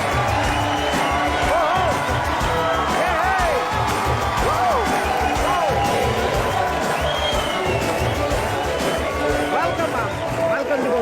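A studio audience keeps up loud, continuous applause and cheering with whoops at a comedy show welcoming guests, a dense crowd roar with voices mixed in throughout.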